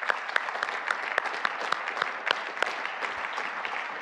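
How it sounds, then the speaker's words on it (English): A panel audience claps in a steady, dense round of applause, the sharp individual hand claps standing out over the wash, with no talking throughout. "So a round of applause."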